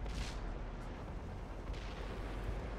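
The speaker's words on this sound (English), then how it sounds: "I got a very, very close hit from Artie there" A close artillery shell impact near a tank in the World of Tanks video game, heard as a dense, rumbling boom with a bright burst at the start and a sustained low roar throughout.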